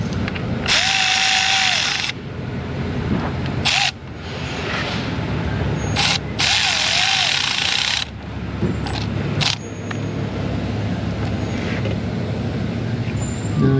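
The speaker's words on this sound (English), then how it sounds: "I'm just tightening the clamp, nothing exciting." Power tool driving a worm-drive hose clamp tight during engine repair on a Honda Crosstour valve cover job, heard as loud, close whirring bursts of a few seconds each, stopping and restarting several times in a shop.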